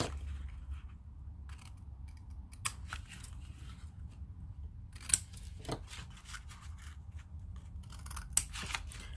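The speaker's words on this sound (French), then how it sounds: "Là en plus j'ai pris les gros ciseaux." Large scissors snip through paper in irregular crisp cuts, some louder snaps, close up over a faint background hum, with no talking.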